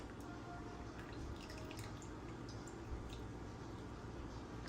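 Cooked black-eyed peas simmered with a leftover ham bone being strained, their liquid trickling and dripping away in a faint, steady wash with small drips scattered throughout.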